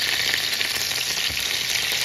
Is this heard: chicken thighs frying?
yes